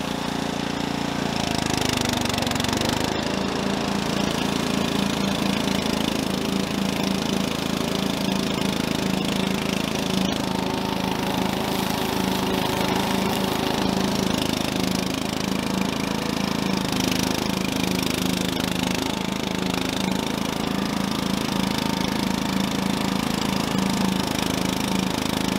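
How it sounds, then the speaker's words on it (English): A lawn mower with a 14 hp motor and Meg-Mo flail blades runs steadily while mowing a yard, a loud continuous engine drone with a rattling, chopping texture and a brief dip early on. "this little bitty 14 horse motor is not struggling near as bad as it does"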